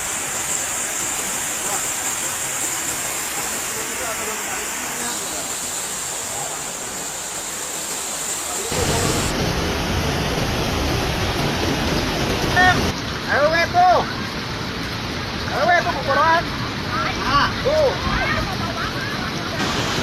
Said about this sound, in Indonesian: Di kawasan Bojongkopo, arus sungai sangat deras dan dilaporkan menggerus pondasi sungai.